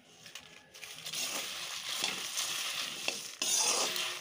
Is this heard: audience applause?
no